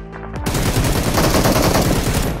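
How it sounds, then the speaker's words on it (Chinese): Suppressed M4 rifle fire in the mobile battle royale game Peace Elite, a rapid, steady stream of close, punchy shots that runs without a break after a brief quiet start, with no talking. "消音 M4 的枪声"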